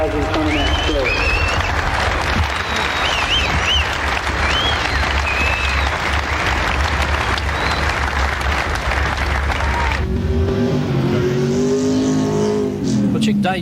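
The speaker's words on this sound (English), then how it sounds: "could we have a round of applause to the top 10 cars" A crowd applauds loudly for the top 10 cars at the Summernats car festival amid racing car engines revving nearby, with a voice over a loudspeaker near the end.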